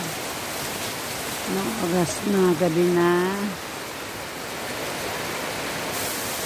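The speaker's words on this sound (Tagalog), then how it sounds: "Malakas ang ulan" Heavy rain falls at night in Banate, Iloilo, a constant dense hiss of downpour that runs throughout while someone speaks briefly over it.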